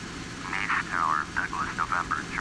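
Douglas DC-3 piston engines drone steadily through the cruise in the FS9 flight simulator, a continuous low hum running under a voice speaking throughout.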